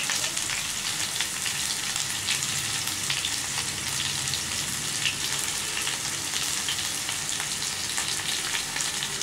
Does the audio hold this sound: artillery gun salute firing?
no